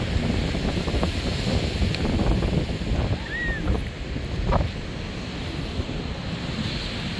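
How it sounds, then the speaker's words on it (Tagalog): Strong wind buffets steadily by the sea, waves washing underneath in a constant roar, with a faint brief whistle partway through. "Tapos ang lakas pa ng hangin."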